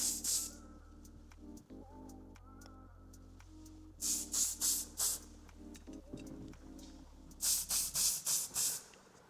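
In a barbershop, hairspray is sprayed onto styled hair in short hissing bursts, first an early burst, then a cluster of four or five quick sprays, and later another rapid series, over a steady low hum.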